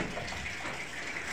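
Clothes being washed by hand at home: a steady, close wash of running and splashing water with no breaks and no talking.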